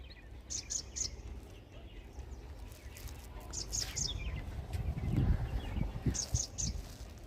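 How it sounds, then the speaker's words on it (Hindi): Bright bird chirps repeat in short clusters high above a steady outdoor rumble in village fields, fairly faint and scattered across the scene. "इतनी ज़बरदस्त चिड़ियों की आवाज़ आ रही है"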